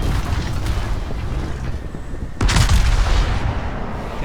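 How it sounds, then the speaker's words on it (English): A warship fires armor-piercing shells in the naval battle game World of Warships: one heavy, close boom hits midway through, over a constant rumbling bed of game noise. "Continue to fire the armor piercing shells."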